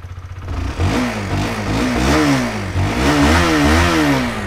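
A nearby automatic scooter with a previously rebuilt engine revs repeatedly, its pitch rising and falling in several throttle blips over a rumbling idle.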